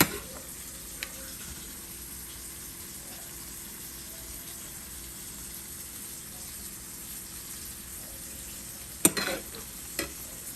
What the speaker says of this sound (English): go ahead and stir in the broccoli and everything to stir fry, so that's what I'm gonna do